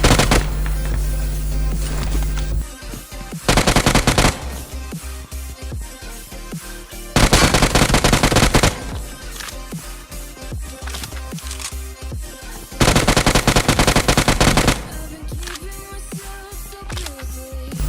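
Rapid gunfire from the Free Fire battle royale game bursts out in several loud, dense volleys separated by quieter stretches of game sound, with bursts of rapid shots repeating in close succession.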